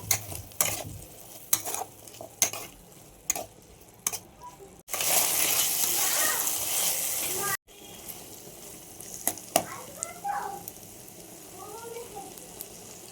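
Lentils and sliced potatoes are stirred in a pan, a spoon scraping and knocking in short repeated strokes, with a burst of loud sizzling frying in the middle before the stirring resumes.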